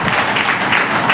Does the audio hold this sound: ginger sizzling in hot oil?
no